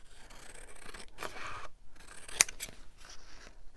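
Scissors trimming a large paper journal card for an altered book, a few close, quiet snips and paper scrapes amid soft handling noise, no talk.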